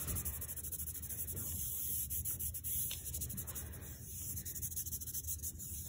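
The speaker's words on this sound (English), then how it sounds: "rub it down to activate the glue" Hands rubbing athletic tape down onto the skin of a foot over the medial arch, a soft, steady, close brushing friction with no speech.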